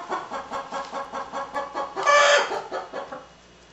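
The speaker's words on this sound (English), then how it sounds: "Got about a dozen chickens in that closet over there watching us." About a dozen chickens cluck from a closet close by: a steady, rhythmic run of clucks that swells into a louder, busier squawking burst before quickly trailing off.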